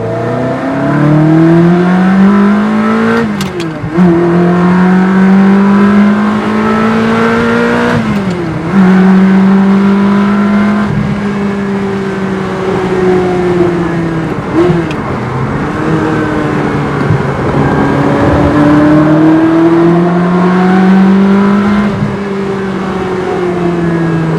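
A Ferrari 360 Spider with a gated manual gearbox and an upgraded ECU pulls hard in second gear, its engine note loud and close, rising and falling in several long drones with brief dips between pulls.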